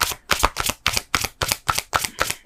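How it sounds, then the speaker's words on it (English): Tarot cards shuffled by hand in a steady riffling rhythm, about nine quick crisp bursts in a row, close and clear with no voice over them. "We're just going to shuffle again."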